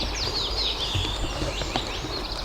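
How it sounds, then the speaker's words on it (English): Birds sing in the woods, with several thin, high chirps and whistled phrases rising over a soft outdoor hush for a couple of seconds. "As we listen to the birds"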